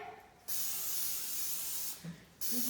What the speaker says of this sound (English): we are going to be greasing our 9x13 pan with some non-stick cooking spray